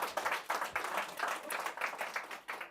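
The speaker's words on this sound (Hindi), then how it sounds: "जोरदार तालियां प्लीज।" A live audience claps in a fairly quiet, loosely rhythmic pattern, individual claps pulsing in bursts for a few seconds.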